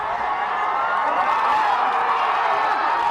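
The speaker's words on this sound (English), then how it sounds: "A huge cheer, then singing as the decision reaches the crowd out front." A big crowd cheers and whoops outside the Supreme Court as a same-sex marriage ruling is announced, a dense, sustained roar of many voices at steady loudness throughout.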